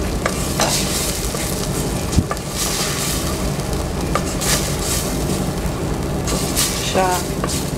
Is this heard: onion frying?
yes